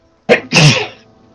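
A single loud, close sneeze, a sharp intake followed by an explosive burst, with quiet before and after.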